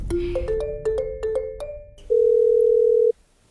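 A phone in a kitchen sounds a series of short electronic tones in quick succession, then one long steady tone before cutting to quiet.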